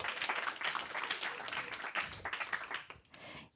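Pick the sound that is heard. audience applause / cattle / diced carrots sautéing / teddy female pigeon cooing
audience applause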